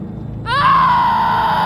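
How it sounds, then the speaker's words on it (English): A woman's loud, sustained scream rising sharply in pitch and then holding, a short dramatic horror-story sound effect. "Mara screamed"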